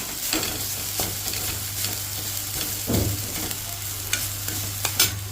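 Grated coconut is stirred in a kadai over a low flame: a soft, continuous sizzle with irregular scraping strokes of the spoon, a few sharper scrapes standing out.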